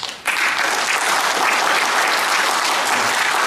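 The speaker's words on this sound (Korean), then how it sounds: "뜨거운 박수" Sustained applause from the audience at a Korean joint memorial ceremony for patriotic martyrs, loud and dense, beginning abruptly after a brief quiet moment and continuing steadily throughout.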